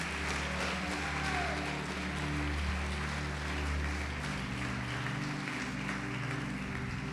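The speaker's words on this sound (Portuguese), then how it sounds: "Pode aplaudir e glorificar o Senhor Jesus." A church congregation applauds during a sermon, a soft, sustained patter of many hands over held musical tones and faint voices in the background.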